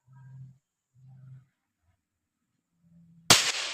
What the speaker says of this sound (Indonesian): Hati-hati, saya konsletkan nih ya, perhatikan nyala dan meledos.